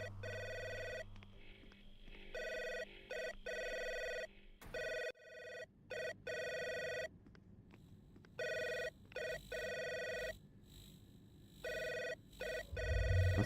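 An intercom rings in an indie video game, a bright electronic tone repeating in regular bursts with short pauses, loud and clear over quiet background.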